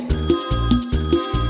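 A telephone bell rings loudly and steadily nearby, a fast, rhythmic electronic trill that repeats in even pulses with no voices over it.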